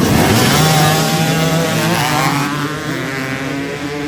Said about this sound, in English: Here's how it goes to dead engine start.